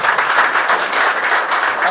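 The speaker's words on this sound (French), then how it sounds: "Est-ce qu'on peut applaudir pour lui?" An audience claps in applause for a man, loud and close, a dense continuous burst with a fast, even rhythm lasting a couple of seconds.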